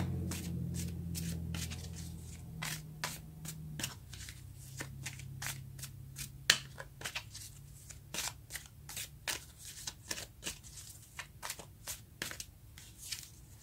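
A deck of tarot cards is shuffled over and over during a card reading. Quick, crisp riffling snaps come in a dense, uneven rhythm, close and clear, while a low hum fades out early.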